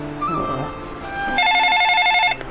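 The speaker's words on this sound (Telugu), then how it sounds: "ఎవరు ఫోన్ చేస్తారు ఈ టైంలో?" A phone rings indoors in a home with repeated electronic ringtone bursts in a steady pattern, starting partway through and continuing loud and close.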